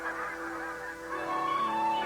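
Wild geese honking in the mating season, a faint, distant chorus of overlapping nasal calls with a sustained tonal note near the end, heard under a soft musical background.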